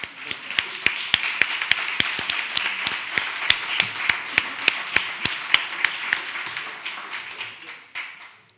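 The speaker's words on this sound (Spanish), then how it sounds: "Vamos a darles un aplauso, por favor." Applause from a seated audience at an education conference in Madrid, heard as a steady wash of many hands clapping with sharp individual claps standing out, fairly close, fading toward the end.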